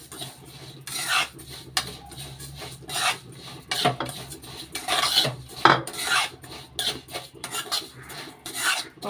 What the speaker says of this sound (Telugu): ఈ నెయ్యి గిన్నెలోనే వేపుకోవాలండి. లైట్గా వేపుకుంటే టేస్ట్ బాగుంటుందండి.